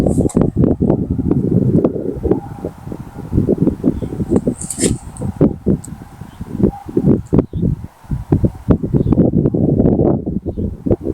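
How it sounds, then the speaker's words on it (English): Gusty wind blowing outdoors buffets the microphone in loud, uneven rumbling bursts that rise and fall throughout. "I love the wind. The wind makes this so much easier."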